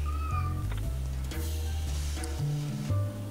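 A cat named Sunny meows repeatedly in Lone Survivor, a series of loud, close, drawn-out cries layered over a low droning game soundtrack, with no talking.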